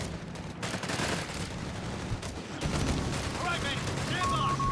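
Gunfire from the Company of Heroes 3 strategy game, a busy wartime battle soundscape with dense, continuous rattling shots and explosions over rumbling background, a voice speaking over it.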